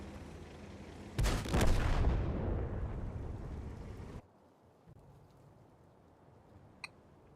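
A heavy artillery blast from the tank game World of Tanks, loud and booming, followed by a few seconds of rumbling decay that drops off abruptly into quiet background with one faint click later.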